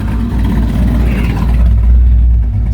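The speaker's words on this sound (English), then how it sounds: "So here's the startup, idling and everything." A car engine idles steadily after startup at around 1,000 rpm, a loud, close, deep rumble that holds even and continuous with no voices over it.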